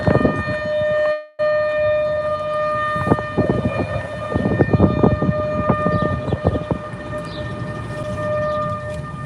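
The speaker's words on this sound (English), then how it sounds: "Tornado sirens going off." Civil defense sirens wail steadily during a tornado warning, a sustained tonal drone with clattering, rumbling noise underneath and a brief cutout early on.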